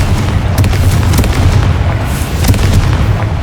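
Bombarda explosion spell cast in Hogwarts Legacy, a loud continuous rumbling blast with deep low boom and sharp bursts at intervals, sustained over a dense game soundscape.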